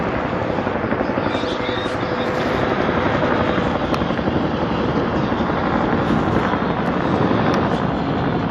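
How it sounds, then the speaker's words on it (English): A steady, loud rotor drone fills the whole stretch, a helicopter overhead during an e-bike commute in Tustin, with a rough wind-like rumble underneath. "there's a helicopter"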